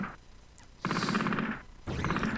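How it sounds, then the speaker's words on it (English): Machine gun fire in the video game Cannon Fodder comes in two sustained rattling bursts, each about three-quarters of a second long, separated by a brief quiet gap and heard close and clear. "Blow them all away with your unlimited machine gun"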